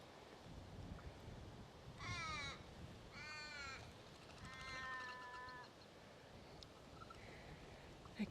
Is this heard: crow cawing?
yes